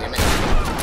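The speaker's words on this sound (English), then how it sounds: "I'm bad with the shotgun at that range." Shotgun blasts in the video game Tomb Raider, a short, loud burst of close gunfire packed into under a second amid game noise.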